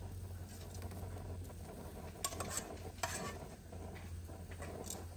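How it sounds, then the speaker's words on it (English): Zucchini and peppers sizzle on hot grill grates, a soft steady hiss with occasional clinks of a utensil against the metal, fairly quiet and with no voices. "Throw my zucchini on."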